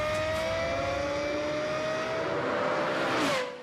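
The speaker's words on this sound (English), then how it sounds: "And the sound of this high-revving engine is unmistakable." A Lexus LFA's high-revving engine howls loudly and up close, holding a steady, tightly pitched wail that rises briefly near the end before cutting off.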